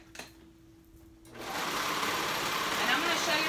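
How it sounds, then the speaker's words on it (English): A cover stitch sewing machine hems a dress, starting after a brief quiet pause and then running as a steady, continuous mechanical whir that stays level and close. "So now I'm going to do my hem"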